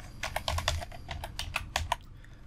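Rapid keystrokes on a computer keyboard while coding a CSS linear gradient for a Bootstrap 4 navbar, an uneven run of close, crisp clicks with brief pauses, heard alone with no talking.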